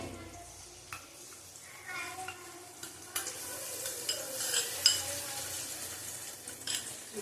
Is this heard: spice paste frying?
yes